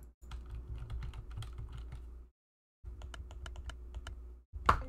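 Typing on a computer keyboard: rapid clustered key clicks in two bursts separated by a brief silent pause, close and crisp, ending with a louder single clack.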